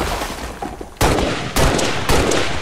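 Three loud, sharp gunshots crack out at roughly half-second intervals in the turn-based strategy game XCOM 2, each followed by a brief ringing tail, with a quieter ambient lead-in before the first shot.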